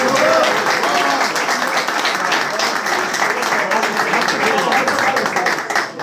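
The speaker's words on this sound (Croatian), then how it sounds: "jedan veliki aplauz za dobro utakmicu od suđenja" Crowd applause for the referees after a water polo tournament match in Kumanovo, a dense, continuous round of clapping that fills the whole stretch, with voices mixed in.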